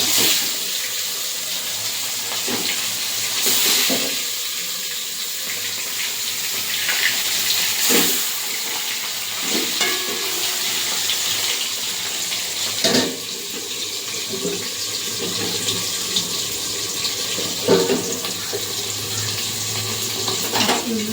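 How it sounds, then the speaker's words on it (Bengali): Katla fish pieces fry in hot oil in a wok, giving a loud, continuous hiss and sizzle close by with a few sharper spatters and clicks throughout, no voices. "তেল দিয়ে দিয়েছি কড়াইতে, তেলটা গরম হয়ে গেছে। এই মাছটা ছেড়ে দেবো।"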